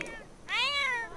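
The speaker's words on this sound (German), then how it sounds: "Was will die Katze denn?" A cat in The Sims 4 (Island Living) lets out a single clear, drawn-out meow, close and loud, after a brief softer chirp at the start.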